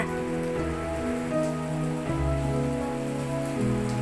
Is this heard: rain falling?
yes